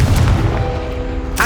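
A Confringo blasting spell in the Hogwarts Legacy video game: one loud, close blast at the start whose deep rumble decays over a second, with another sharp hit at the very end.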